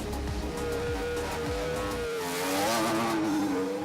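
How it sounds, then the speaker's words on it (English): A Formula 1 hybrid power unit fires up on a test bench. A rough, pulsing start gives way to a strong, rising engine tone that revs and wavers, close and loud, with no talk. "When we see the engine first fire up, that's the point that we say that the power units come alive."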